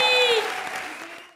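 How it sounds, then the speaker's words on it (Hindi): A comedy show audience breaking into brief applause, a dense burst of clapping that quickly fades, with a voice briefly over it. "उनके लिए जोरदार तालियां।"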